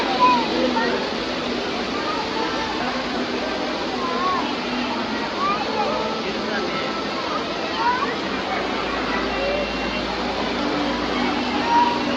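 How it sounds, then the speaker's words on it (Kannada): A small waterfall, like mini falls, gives a steady, broad rush of falling water that continues throughout, with faint bird chirps and background voices mixed in. "ಮಿನಿ ಫಾಲ್ಸ್ ಥರನೇ ತುಂಬ ಚೆನ್ನಾಗಿದೆ"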